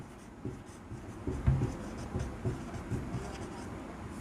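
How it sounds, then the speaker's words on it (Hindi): Pen writing out a chemistry definition by hand, with a run of faint scratching strokes and small taps at an irregular rhythm, close but quiet against low room noise. "पहले डेफिनेशन लिख लेते हैं"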